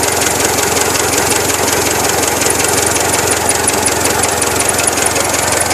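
A 1925 Chevrolet engine runs steadily at idle, its push rods and valve gear tapping in a fast, even mechanical rhythm over a constant loud rumble, close up and with no voices.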